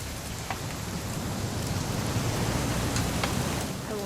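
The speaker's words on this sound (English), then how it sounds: "It's gonna rain the whole weekend" Steady rain falls throughout a scene in the video game What Remains of Edith Finch, a dense continuous hiss with scattered droplet taps and no voices.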